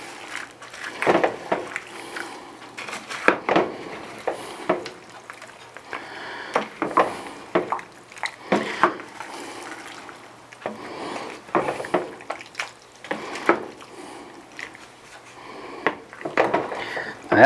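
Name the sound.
stirring beef stew with green beans in a pot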